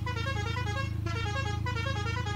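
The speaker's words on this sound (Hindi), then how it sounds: "और हॉर्न मैंने अच्छा सा लगा दिया इसके अंदर" A Maruti Suzuki van horn in the Farming Simulator 19 video game blares as a steady, loud, buzzy tone that holds almost continuously with a couple of tiny breaks.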